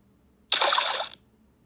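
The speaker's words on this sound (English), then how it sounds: "Little splash sound." A short splash of water as Peter steps onto the water, a single bright burst lasting about half a second, close and clear against near silence.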